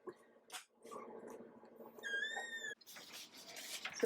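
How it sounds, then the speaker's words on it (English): Three-week-old puppies in a box give small yips and squeaky barks amid rustling and shuffling, with one higher whining squeal in the middle, all close and fairly quiet. "they're making little bark noises"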